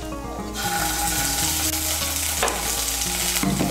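A small spoonful of ginger paste hits hot oil with tempering spices for vegetarian chickpea ghugni, producing a loud, continuous close sizzle with a sharper crackling flare partway through.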